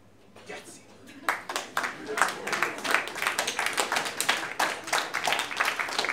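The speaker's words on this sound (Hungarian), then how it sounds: "köszönjük szépen a tapsot" An audience at a slam poetry event in Miskolc breaks into applause that starts with a few scattered claps and swells into quick, dense clapping that continues to the end.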